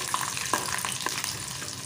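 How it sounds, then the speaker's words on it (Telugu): Garlic cloves frying in hot oil in a pan, a steady close sizzle with a few sharp pops and crackles throughout, no voices. "15 వెల్లుల్లి వేసుకొని ఫ్రై చేసుకోవాలి।"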